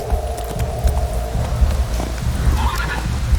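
Roach, Geralt's horse in The Witcher 3, whinnies and snorts while hooves clip-clop at a walk nearby, with a steady low ambient hum underneath.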